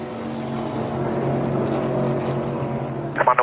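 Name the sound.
NASCAR Cup Series race car coming around the track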